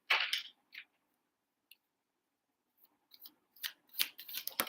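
Tarot cards drawn and handled from a deck in quick papery bursts, close and crisp, with short quiet pauses between the slides and flicks.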